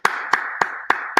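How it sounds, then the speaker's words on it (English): Five sharp hand claps evenly spaced about a quarter second apart, close and crisp, with no talking. "I'm just gonna clap in a very classy way."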